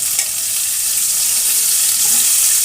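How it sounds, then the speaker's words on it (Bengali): Cauliflower pieces frying in oil with potatoes in a pan, a steady bright hiss of sizzling oil holding at an even level from start to finish. "একই সাথে এটাও একটু ভেজে নেব।"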